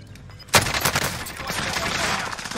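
Gunfire in the Call of Duty Warzone video game, a loud sudden burst of shots that breaks in after a quiet start and carries on as dense, rattling fire for a couple of seconds.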